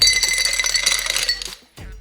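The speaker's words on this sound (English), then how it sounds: "Next, add ice." Ice cubes clatter and clink into a hurricane glass in a bright, loud burst of overlapping hits lasting about a second and a half, then a brief quiet before a final soft knock.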